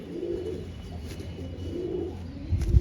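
Pigeons coo in soft, low rolling phrases, repeated two or three times close by, with a brief louder thump near the end.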